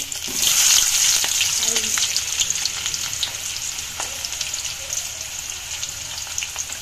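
Ginger and onion frying in a pan on a stove, a steady close sizzle with light crackle and a few stirring scrapes throughout, no talking.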